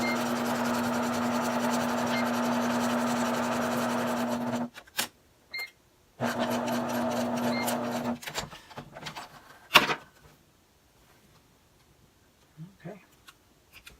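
A sewing machine stitches fabric and elastic for a toy car activity mat, running in a steady close hum for several seconds, pausing, then running again before stopping amid quieter handling noises.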